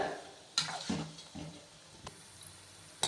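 Cabbage bonda deep frying in oil over low heat, a soft steady sizzle broken by a few sharp scrapes and clinks of a utensil, close and fairly quiet.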